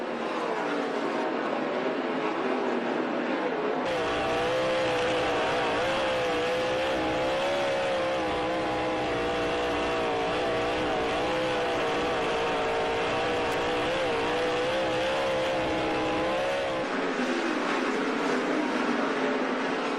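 World of Outlaws sprint cars race at the 2012 Knoxville Nationals. Their engines make a loud, continuous roar that swells and fades in waves as the cars pass, and it never lets up for the full twenty seconds.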